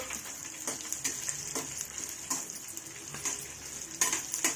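Dried red chillies and garlic frying in oil in a pan, with a steady soft sizzle and occasional clinks and stirring scrapes from a utensil against the metal.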